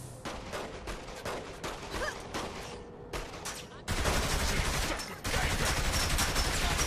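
Sustained automatic gunfire erupts in a Saints Row 3 firefight at an armory, rapid rhythmic bursts at close range that briefly pause before heavier, louder volleys take over.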